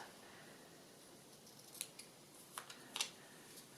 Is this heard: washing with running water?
no